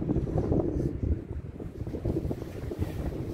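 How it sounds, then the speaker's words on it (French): Strong gusty wind roars and buffets the microphone continuously on a path to a river, with a churning low rumble like nearby moving water beneath it. "C'est très venteux."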